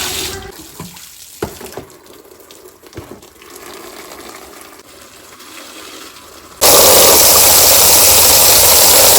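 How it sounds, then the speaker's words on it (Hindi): Fresh spinach leaves washed in water, with soft splashing and handling at first, then a loud, steady rush of running water taking over for the last few seconds, with no voices. "फिर इसको खूब धुलेंगे पानी में"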